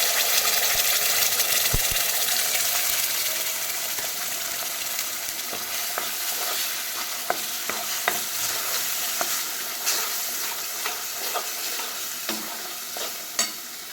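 Ground spice paste frying with wild mushrooms in a pan, a loud continuous sizzle broken by repeated scraping stirs and occasional clinks of the utensil, close and with no voices.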